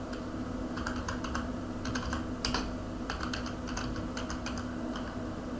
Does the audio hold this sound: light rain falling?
no